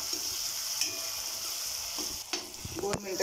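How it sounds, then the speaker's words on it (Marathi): Tomatoes being sautéed in a pan for dal tadka, a steady sizzle and frying hiss throughout with a few sharp spatula clinks and scrapes near the end, close and fairly loud with no talking. "टमॅटो आतमध्ये विरघळला पाहिजे, तिथपर्यंत आपल्याला तो परतायचा आहे."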